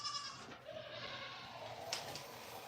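A seven-year-old doe named Nutmeg bleats close by on a small goat farm, one drawn-out wavering cry followed by a shorter second call near the end, against quiet background noise.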